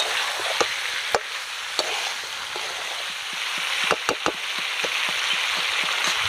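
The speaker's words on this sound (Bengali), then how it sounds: "সব কিছু দিয়ে এবার ভালো করে কষিয়ে নিতে হবে।" Spiced chicken sautéing in a pan for chicken tehari, with a steady close sizzle and occasional sharp clicks and scrapes from stirring, no voices.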